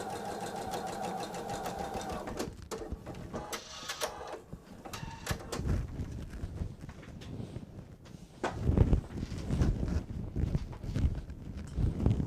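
A sewing machine stitches quilt fabric in a fast, even mechanical rattle, then gives way to intermittent bursts of stitching mixed with handling clatter and knocks, heard fairly close and without talk.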